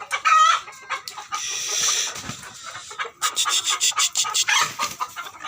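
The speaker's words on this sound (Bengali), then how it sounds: "মুরগিগুলো সবগুলো বের হয়ে গেল" Chickens cluck and squawk close by in quick bursts, with a rooster-like cry early on and rustling movement in between.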